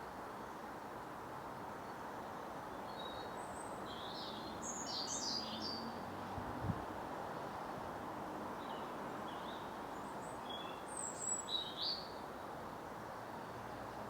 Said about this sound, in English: I'm hoping that the mic's picking up these beautiful birds